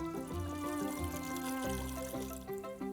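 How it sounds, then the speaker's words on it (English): Water poured into an Instant Pot for chicken soup, a gurgling stream with rising resonant tones as the pot fills, close and steady for a few seconds, faint background music underneath. "all we have left to do is add some water"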